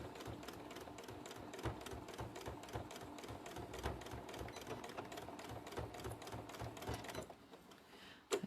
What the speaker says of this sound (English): Just go back, forward and back stitches, and feed it up.